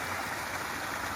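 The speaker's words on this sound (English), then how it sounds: "So, found my waterfall." Waterfall tumbling into a pool along Greenant Creek in Litchfield, a steady broadband rush of falling water heard close and continuous without any voices.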